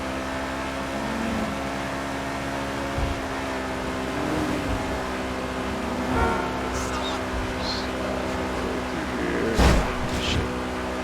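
In the GTA FiveM game, a car races along at around 145 miles an hour, its steady engine drone constant and moderately loud, with a sharp crash-like burst near the end.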